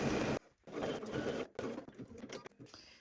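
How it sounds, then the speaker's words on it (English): A sewing machine stitches the center back seam of a pair of pants at a 3/8 inch seam allowance, running in several close bursts with brief pauses between them. "let's sew these center backs at 3/8 of an inch"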